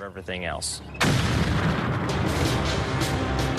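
A JDAM guided bomb blast hits with a sudden loud boom that follows a short burst of other sound, then a heavy roaring rumble that sustains and slowly rolls on to the end.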